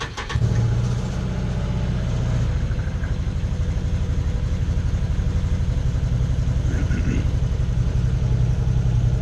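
A Can-Am Commander XT 800R side-by-side's engine cranks and fires, then settles into a steady, even idle with a deep pulsing throb, close and loud, with no talk.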